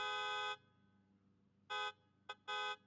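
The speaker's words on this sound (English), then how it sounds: "It comes out of a speaker that's in the front right, and it's pretty quiet. So, you know, if I were to push the horn" A Tesla Model 3 horn sounds from a small speaker at the front right, coming as three distinct electronic-sounding honks, one long, one very short and one medium, with a brief blip between them and quiet ambience in the gaps.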